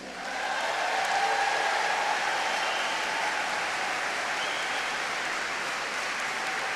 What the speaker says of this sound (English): Nice ovation from the crowd